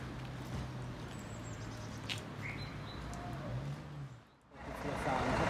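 Cars and buses pull away at a large bus station on Újgyőr main square in Miskolc, Hungary: a steady low engine rumble with birds chirping over it, briefly dipping before swelling louder again.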